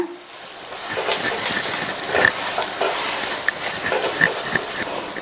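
Mashed potato with ginger-garlic paste being stirred in a frying pan, with a steady soft sizzle and occasional scraping clicks of the spoon across the pan.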